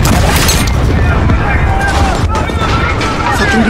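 A detonated charge blasts in Call of Duty: Modern Warfare (2019), a loud, dense roar of explosion and debris that fills the whole moment with heavy rumble and crackle and never lets up.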